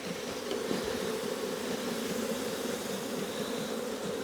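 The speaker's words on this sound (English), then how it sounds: "So many bees around me." Dense, steady buzzing of many honeybees swarming close around an opened hive during a hive check, continuous and enveloping with no talk.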